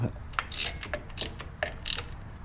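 Bolts on a Dana 35 differential cover being snugged down with a ratchet in a star pattern over a new gasket, giving short bursts of close, crisp clicking separated by brief pauses.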